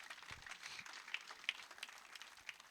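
A church congregation applauds, a faint, steady patter of many hands clapping at a distance for a few seconds, with no voices over it.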